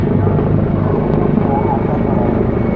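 A helicopter flies over Dobongsan mountain during an apparent rescue of an injured hiker, its rotor and engine giving a loud, continuous, throbbing drone that stays close and steady throughout.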